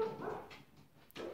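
A pet dog gives a couple of short, mid-loud barks or yips, with a quieter stretch between them and no talking.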